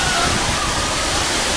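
Ditumabo Mother Falls, a waterfall near Baler, heard from a few metres away as a steady, loud, broadband roar of falling water with no break.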